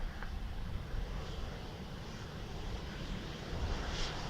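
An airplane lands on runway 28 left at Dublin Airport, a steady broad engine roar heard from a distance under outdoor wind rumble, swelling slightly toward the end.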